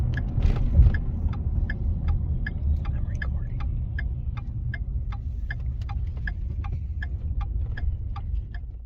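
An Acura Integra interior drone with steady low road and engine rumble while pulling into a shop, overlaid by a regular, evenly spaced ticking like a turn signal clicking throughout.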